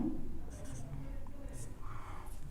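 Chalk or marker scratching across a board during a calculus lecture, short scribbling strokes in quick bursts, faint and close, with low background noise.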